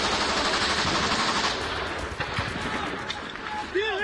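Automatic gunfire crackles in rapid bursts during street fighting in Kyiv, Ukraine, with dense overlapping shots and sharper single reports, some sounding distant, heard under a busy noisy background.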